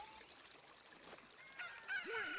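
Game chicken from Ocarina of Time, faint at first, then a short squawking cluck rises near the end over quiet background sounds.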